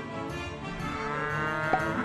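Cows moo loudly and continuously in the boulder-rolling video game Rock of Ages 2, a sustained low lowing that swells slightly over a busy game soundscape with no talking.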